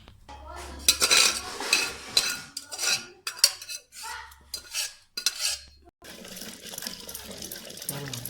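Cooked dal for a spinach curry is churned in a traditional village clay pot, outdoors beside a canal and lake. Repeated scraping, knocking strokes come in short rhythmic bursts, then settle into a steady churning after a brief pause.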